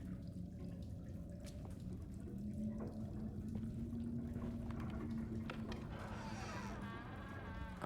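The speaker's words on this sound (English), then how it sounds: "don't like the sound of water sloshing in there." Water sloshing in a slimy, filled tub in the horror video game Alone in the Dark, a steady low liquid churn that runs throughout, with brief drips and a faint trickle toward the end.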